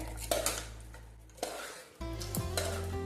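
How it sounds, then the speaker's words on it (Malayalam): Stirring mutton Kandhari curry in a pot gives a few metallic scrapes and clinks of a spoon against the vessel, close and fairly quiet, with a low sizzle beneath. "കൂട്ടാനൊന്ന് നന്നായിട്ട് ഇളക്കി കൊടുക്കാം."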